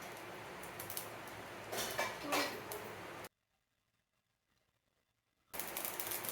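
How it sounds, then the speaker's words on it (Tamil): Mustard seeds and urad dal crackle and pop in hot oil in a pan, a dense, busy sizzle that stops dead for about two seconds, then resumes just as loudly. "கடுகு நல்லா வெடித்து வரணும்."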